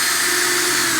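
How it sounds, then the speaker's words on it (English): A power drill with a 3/8 inch bit whines steadily and loudly as it bores a hole, a continuous close motor drone for about a second. "This is how we drill."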